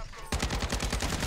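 Rapid hipfire bursts from the Cast-off gun in Call of Duty, a sudden run of loud, evenly spaced shots cracking out close after a brief quiet lead-in.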